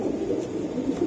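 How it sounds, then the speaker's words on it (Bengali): Pigeons at a pigeon farm give soft, low cooing, a brief murmuring burble close by that continues for about a second. "দর্শক কবুতর গুলা দেখেন আপনারা, একদম কোয়ালিটি দেখেন, কোয়ালিটি সম্পূর্ণ কবুতর।"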